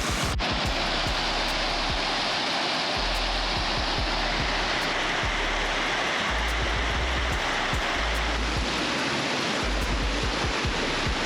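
A Carpathian mountain river rushes steadily and loudly throughout, a broad unbroken wash of flowing water close by with no voices.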